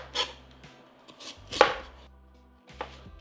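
A knife cuts Granny Smith apples into bite-size pieces on a board, a few sharp, separate chops spaced by pauses, close and clear with no talking.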